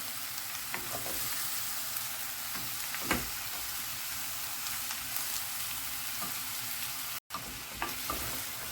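A fish mince roll with pumpkin fries in oil in a pan, giving a steady close sizzle and hiss with a few soft stirring clicks and no talk.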